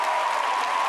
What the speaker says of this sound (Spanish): pido de verdad el aplauso más grande que hayamos tenido nunca en este plató